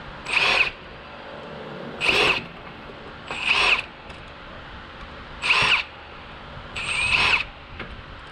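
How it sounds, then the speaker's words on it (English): A power drill or impact driver backs screws out of a Kawasaki ZX11 motorcycle carburetor during cleaning, sounding as five short, close whirring bursts spaced about 1.5 seconds apart with quiet pauses between and no talking. "I will come back with my impact or my drill and pop them off"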